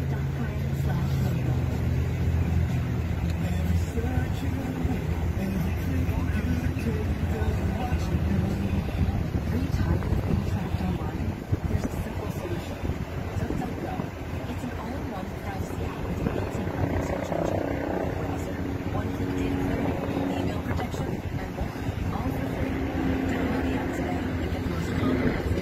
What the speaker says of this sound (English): Hear the helicopters.